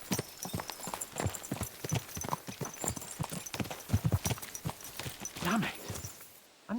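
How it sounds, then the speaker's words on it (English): Horses' hooves clip-clop at a fast, steady rhythm throughout, close and prominent, from mounted riders in the medieval game Kingdom Come: Deliverance. "Let's really spur these horses on, eh?"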